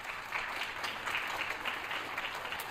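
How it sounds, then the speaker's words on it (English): An audience in a school auditorium at an eighth-grade orientation applauds, a fairly faint, steady patter of many hands clapping with no voices over it. "Let's give him a round of applause as well."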